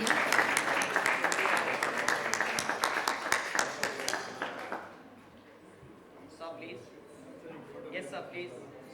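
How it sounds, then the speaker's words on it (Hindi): An audience applauds Dr. Arun Kapoor at an award ceremony, a dense burst of clapping that is loud at first, then thins and fades into quieter room sound with scattered claps. "एक बार जोरदार तालियां डॉक्टर अरुण कपूर जी के लिए।"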